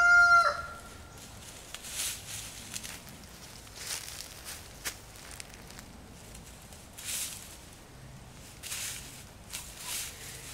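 Hens and a rooster in a backyard flock, with a rooster's crow near the start followed by scattered clucks and soft footsteps over quiet outdoor ambience.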